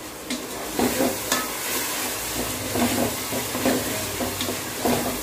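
Vegetables with tomato, turmeric, salt and garam masala sizzle in a hot pan for rava vegetable kichadi, with rhythmic scraping strokes of a spoon stirring every second or so, close and steady.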